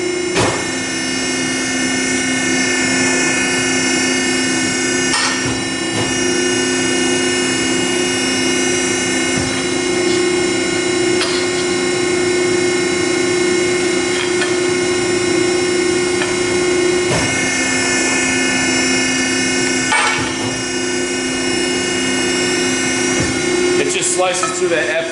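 A Piranha ironworker in a metal shop shearing steel with a steady, loud mechanical drone and hum throughout, with a few sharp clanks near the start, middle and end.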